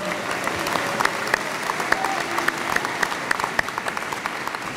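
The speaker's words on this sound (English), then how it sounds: "can we just applaud all of the mothers, fathers, aunts and uncles, grandparents and friends, and everybody else who got you here?" Audience at a Denison University Class of 2020 college induction ceremony applauding the families, a full, sustained round of clapping from a large crowd with a few sharper individual claps standing out.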